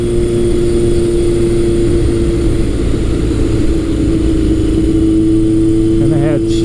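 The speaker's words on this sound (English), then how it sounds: "this is an LTD 1000. I brought this as a project bike, and I'm out on a test drive." Engine of a 1978 Kawasaki KZ1000 LTD project motorcycle on a test ride, a steady, loud droning hum with a low rumble and some wind noise, holding an even pitch throughout.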